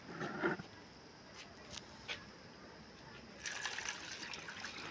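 Muddy wheat grains being washed in water by hand, faint sloshing and trickling with soft splashes, a stronger pour of water toward the end, quiet and close.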